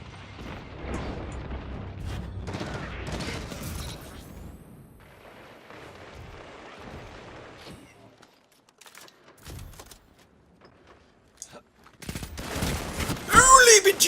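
Lord of Wolves shotgun firing in Destiny 2 PvP, a burst of loud rapid blasts in the opening seconds followed by scattered shots and a louder volley near the end, with a person talking over parts.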